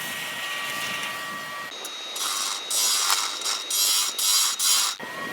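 A whirring vacuum motor runs close by beside a lathe, its roar surging and dipping several times as it works, with a faint steady whine underneath.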